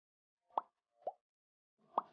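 Pieces of potato drop one at a time into a pan of Bengali-style chicken kosha, giving three soft, separate plops spaced about half a second to a second apart, close and quiet, with no one speaking.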